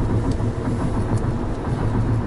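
A 2022 Nissan Serena facelift hybrid engine revving under acceleration on a test drive, a loud, steady mid-pitched drone heard from inside the cabin with no break.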